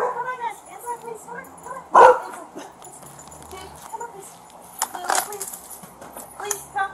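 Dogs at a house during a police call yip, bark and whimper in short bursts, with a loud bang-like thump partway through, while people talk nearby over the animal noises.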